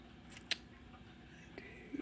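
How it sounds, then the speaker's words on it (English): Scissors snip through plastic seed-starting cell trays during spring seed starting, giving a single sharp close cut followed by a couple of faint clicks in a quiet room. "I'm going to take my scissors and cut these into"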